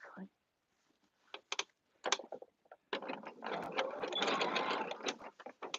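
A sewing machine hems a caftan, starting with a few short stitching bursts and then running in a steady whir for several seconds, close by, with a voice briefly heard at the start.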